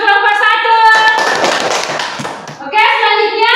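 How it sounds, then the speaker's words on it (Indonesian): Classroom applause for a presenting group in an Islamic religious education lesson, a burst of clapping about two seconds long between stretches of a woman's speech. "tepuk tangan untuk kelompok"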